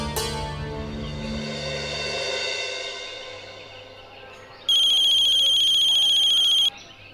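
A telephone rings once in a home interior, a loud electronic ringtone lasting about two seconds near the end, following a fading musical chord.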